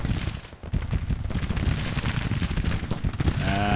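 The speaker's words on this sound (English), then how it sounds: "Our guns have opened up, though." Volleys of Civil War musket and artillery fire in the strategy game Grand Tactician boom and crackle continuously and densely at close range, with no pauses between shots.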